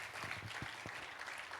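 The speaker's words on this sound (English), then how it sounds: "let's have a warm round of applause to Yusek Cardema" Audience applause at a youth climate action event, a steady wash of clapping from a crowd, fairly soft and continuous across the moment without any talk.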